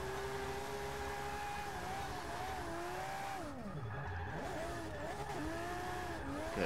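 Nissan S15 drifting in Forza Motorsport 6, a steady loud engine drone with sweeping pitch dips and rises as the car slides, tire noise woven through, continuous for the whole stretch with no voices.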